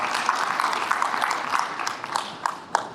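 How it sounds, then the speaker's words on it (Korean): A crowd claps steadily for a few seconds at a citizen participation group launch ceremony, a dense patter of applause with a few sharper claps standing out near the end. "박수 부탁드리겠습니다."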